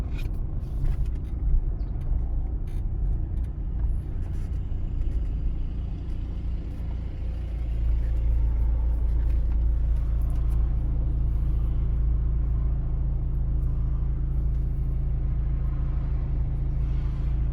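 A car drives along a city road on a driving-exam route in Kremenchuk, its engine and tyre rumble steady and close throughout, growing slightly heavier partway through, with no talking.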